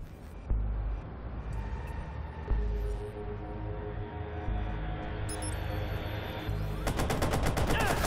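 Gunfire from camera-mounted guns in the Watch Dogs game, dense loud bursts of automatic fire with sharp reports, continuous under heavy game background noise and rising to a rapid rattling volley at the end.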